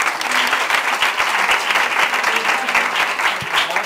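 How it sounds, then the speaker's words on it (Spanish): Steady applause from a class or audience, a dense, even wash of claps kept up at a constant level throughout, with no pause or fade. "Un aplauso."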